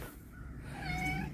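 A cat gives a short, rising meow inside a thrift store, faint and brief over a low background hum.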